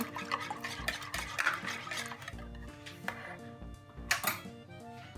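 Egg and milk are whisked together in a bowl for a vegetable börek batter, making quick, irregular metallic clinks and scrapes against the bowl up close, with no talking.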